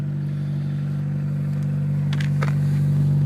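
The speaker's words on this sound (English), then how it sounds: "hope you can hear my exhaust. It sounds pretty good cold. It's definitely a deep rumble." A 2013 Chevy Sonic RS idles cold with a deep, steady low exhaust rumble up close, joined by a couple of brief clanks near the end.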